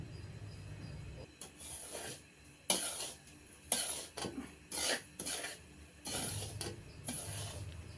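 Semolina for beetroot rava laddu fries in a large pan while a spoon stirs it: repeated scraping sweeps and metallic clinks over a low sizzle, close-up with no voices.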